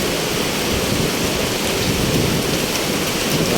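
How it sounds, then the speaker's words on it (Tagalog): Heavy rain pours down in Makati as streets flood, a loud, steady, dense hiss of falling water that carries on without a break and with no voices. "So lakas din yung ulan ha. Hindi biro-biro ulan"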